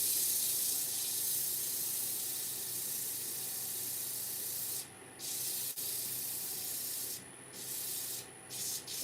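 A wooden candle stick is sanded up to 240 grit, most likely on a lathe, giving a continuous close rushing abrasion with a few short breaks near the end.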